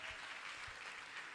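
A lecture audience claps steadily and densely at an inaugural university lecture, a continuous wash of many hands with no pauses, fairly quiet and heard without talk.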